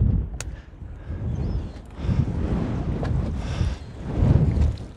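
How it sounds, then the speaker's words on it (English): Strong wind buffets the microphone at sea off the coast of Norway while lobster pots are hauled from a small boat, gusting in loud surges with rumbling low roar and water movement throughout. "man, it's windy."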